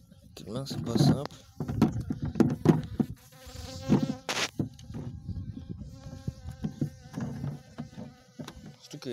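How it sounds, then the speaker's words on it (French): Honeybee buzzing around a person at a beehive during a beekeeping visit: a wavering insect drone comes and goes close by, under steady talk from several people. "il y a une abeille qui tourne autour, qui essaie de te piquer la gueule"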